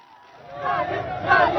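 Crowd of fans celebrating India's Champions Trophy 2025 cricket win at Shivaji Park, Mumbai, a dense roar of cheering and shouting voices that swells louder toward the end.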